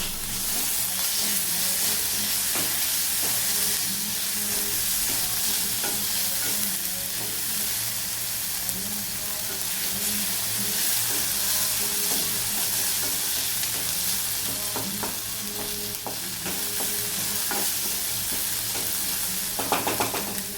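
Chopped tomato goes into softened onion frying in a pan, giving a continuous close sizzle and hiss with occasional stirring clicks and scrapes throughout.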